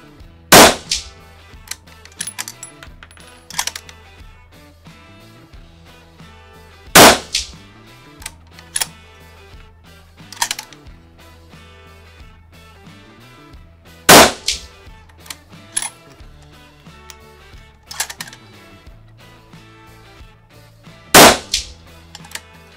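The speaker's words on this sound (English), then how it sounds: "And now I'm going to shoot 5 shots to confirm my zero." Rifle shots fired at a range to confirm a riflescope's zero: sharp, loud cracks spaced several seconds apart, with faint clatter between them and no talking.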